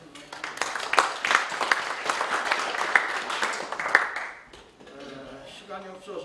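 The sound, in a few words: applause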